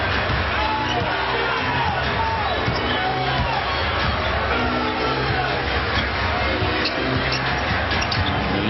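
A basketball arena crowd at an NBA playoff game between San Antonio and Phoenix keeps up a constant roar of yelling and cheering, with scattered shouts above the din and speech mixed in.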